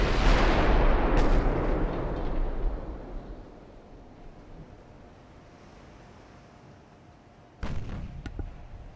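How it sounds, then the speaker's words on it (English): Heavy naval gunfire from battleships in the warship game Ultimate Admiral: Dreadnoughts: a deep booming salvo opens loud and rumbles away, then a second sharp blast lands near the end, with no voices. "our first guns have already fired because we've got long range on these guns"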